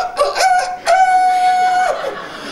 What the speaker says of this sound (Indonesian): Ketika Petrus menyangkal, evangelis ayam berkhotbah.